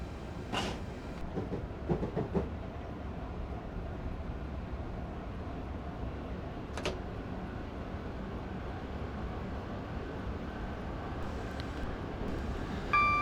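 An electric train runs along track between London Bridge and Victoria in Train Simulator 2015, a steady rumbling drone with a few sharp clicks and clanks, and no one talking.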